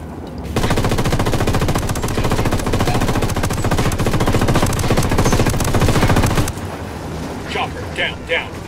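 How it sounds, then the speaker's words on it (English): An Apache helicopter's machine gun in the video game Ghost Recon Wildlands fires one loud, sustained burst lasting about six seconds, then cuts to quieter background game sound. "Apache's got you tagged. It's about to fire."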